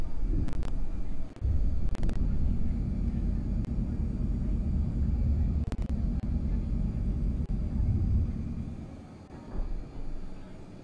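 An airplane climbing just after takeoff fills the space with a steady, loud broadband roar of engines and airflow, broken by a few sharp clicks, and it eases off slightly near the end.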